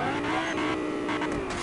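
A car driven fast in a video game: a steady, loud engine roar with tire squeal and skidding throughout a short stretch, no pauses.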